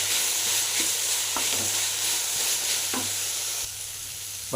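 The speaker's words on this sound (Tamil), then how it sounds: "தேங்காய் தூள் போட்டுடலாம் போட்டு நல்லா கலக்கலாம்" A spoon stirs a pumpkin leaf stir-fry with coconut powder in a pan. A steady sizzle runs under several scraping strokes, and the frying noise thins slightly near the end.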